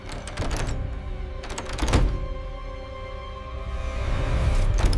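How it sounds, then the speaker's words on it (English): Repeated heavy thuds of someone banging on a locked door from outside, coming in bursts of several close, loud knocks with short pauses between them, over a low background rumble. "He bangs on it, shouting."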